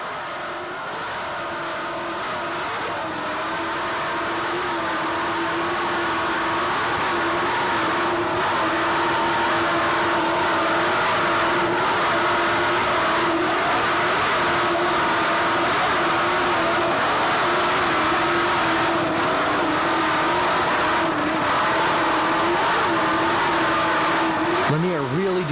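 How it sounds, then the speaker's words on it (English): Offshore racing powerboat at the 1988 Key West Offshore World Championships, a sustained loud engine roar with a steady droning pitch over open water, continuous throughout with wind and spray noise. "Just listen to what this boat can do here in the open waters."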